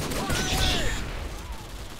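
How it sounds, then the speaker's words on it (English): An RPD machine gun fires into the air in the PC game Modern Warfare 2, a quick burst of rapid shots in the first second that fades into lingering game noise, with a faint voice in the background. "Look at this guy, shooting his RPD in the air"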